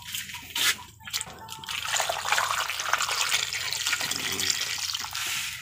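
Water poured from a container over santol fruit in a cooking pot before boiling, a close, continuous splashing trickle after a few brief knocks and clinks.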